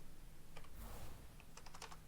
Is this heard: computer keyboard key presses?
yes